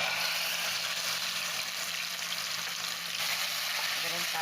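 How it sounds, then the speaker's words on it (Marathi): Onion-coconut paste with whole spices sizzles steadily in hot oil in a pan for Maharashtrian misal, a dense, even frying hiss close up throughout. "कांदा खोबऱ्याचं वाटण टाकून घेतलेलं आहे. याला आपल्याला चांगला खमंग भाजायचं आहे."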